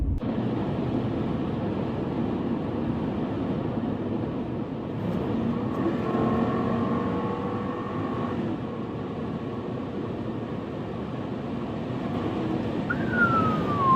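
A 260-horsepower V8 Toyota Celsior LS430 drives along, a steady broad engine and road rumble heard from inside the car with a faint rising whine near the end, continuous and fairly loud.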